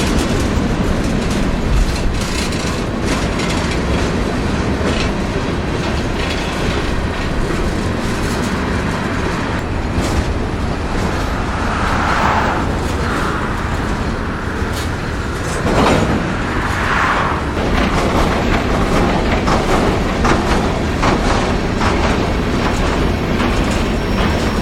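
A freight train passes at the Plant City connection toward the Atlantic Coastline Main and Winston Yard in Lakeland. The loud, steady roar of rolling cars and wheels carries on for about 25 seconds, with occasional squeals and clanks and no voices.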